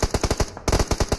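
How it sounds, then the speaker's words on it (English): Rapid automatic gunfire in the mobile battle royale game PUBG Mobile, a loud close burst of evenly spaced shots, a brief pause, then a second fast volley. "we're getting gunshots from various positions"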